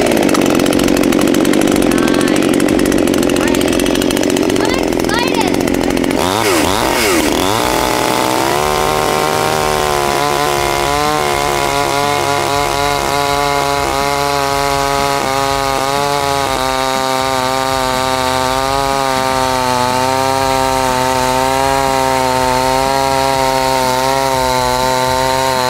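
A cheap $68 Temu chainsaw is pulled into life after a few rough tugs, then runs loud and steady with a wavering, buzzing two-stroke whine that rises and dips in pitch, close to the microphone.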